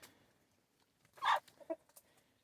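A hen gives a short, quiet cluck and a few faint calls inside a snowy winter coop in Canada, sounding somewhat distant against a low, still background.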